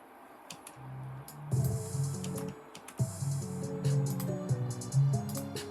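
Homemade trap beat played back, with a deep bass pattern and a melodic line over crisp ticking hi-hats, starting sparse and filling out after a brief pause, loud and close with no talking.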